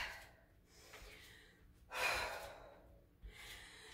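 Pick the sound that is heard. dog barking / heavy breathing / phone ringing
heavy breathing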